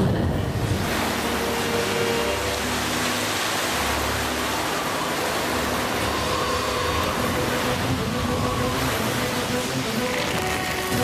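Cartoon magic water power effect of rushing, surging waves, a loud continuous roar of churning water and wind that holds for about eleven seconds, thinning slightly near the end.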